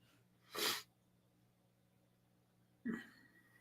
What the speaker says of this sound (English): I just had a sneezing fit